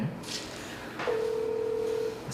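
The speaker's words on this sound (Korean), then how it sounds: "제가 통화 연결을 한번 해보도록 할 건데요" A phone dials out to place a call. A few quick keypad tones come first, then one long steady dialing tone holds for about a second. The sound is clear, with faint room noise under it.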